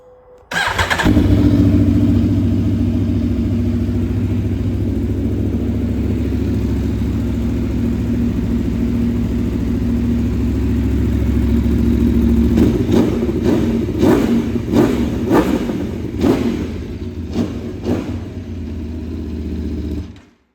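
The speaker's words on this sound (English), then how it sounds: "Let's give it a little start up" An Aprilia Tuono 1100 V4 Factory motorcycle, a 2020 bike with an aftermarket exhaust can, starts up and settles into a loud, steady idle nearby, then gets a series of sharp blips of the throttle toward the end.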